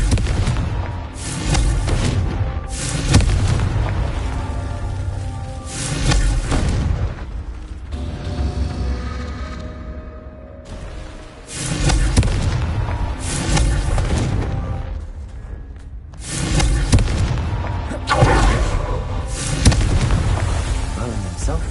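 Repeated booming fire-spell explosions from the game Hogwarts Legacy, loud heavy blasts in clusters separated by short quieter gaps, with a voice casting spells between them.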